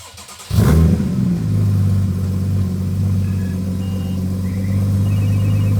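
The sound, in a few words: Porsche Cayman with FabSpeed exhaust revving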